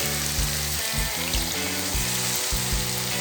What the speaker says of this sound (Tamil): நம்ம கொஞ்சம் தண்ணி ஊற்றிடுவோம்